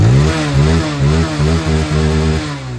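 A TVS Apache BS6 motorcycle engine fitted with a brand new throttle body revs loudly and close, in rhythmic repeated bursts of throttle with brief dips between them, with no talk.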